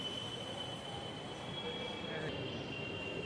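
Kochi metro train running along its track, a steady low rumble with a thin high wheel whine sustained throughout, heard from inside or close by at moderate level.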